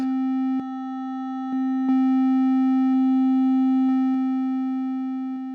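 Sylenth1 software synthesizer oscillator with the voices control raised, a steady sustained tone rich in even overtones, with small clicks as settings change, alone and constant throughout.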